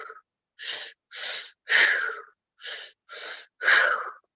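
Forceful rhythmic breathing in an active breathwork ceremony: seven strong, evenly spaced breaths, alternating inhale and exhale, close and loud with short pauses between, no talking.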